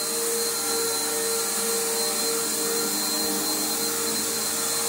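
A Bissell Powerforce Bagged vacuum cleaner runs indoors with a steady, close, high-pitched motor whine and airflow roar that holds even throughout, with no talking.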